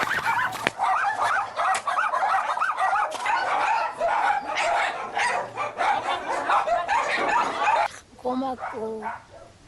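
A pack of puppies cared for by volunteers yaps and yelps continuously in dense, excited bursts nearby, and a brief voice or whine stands out as the barking thins near the end.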